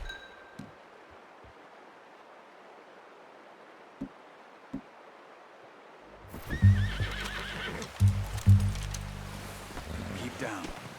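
In Red Dead Redemption 2, a horse gives a loud, close whinny after a quiet stretch, followed by snorting and a few hoof clops on the ground, with faint rustling and scattered clinks around it.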